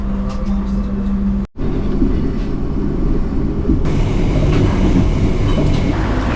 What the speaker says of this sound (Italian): Stanotte quindi dormiremo sul treno. Sta arrivando il nostro letto mobile.